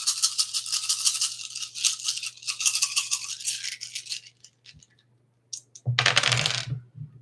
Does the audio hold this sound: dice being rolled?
yes